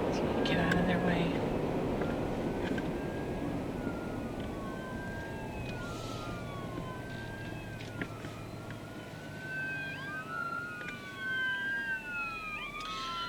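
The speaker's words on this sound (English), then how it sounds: "Looks like an ambulance up here or something." An ambulance siren on a country road, heard from inside a moving car: a wailing tone rises and falls repeatedly over the steady road rumble, growing more prominent as it approaches.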